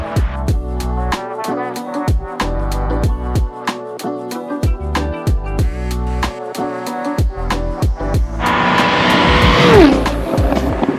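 A car roars past at high speed on the road beside a cyclist out on a training ride, the engine note rising and falling through rapid gear changes before the tires hiss by in a loud, close whoosh.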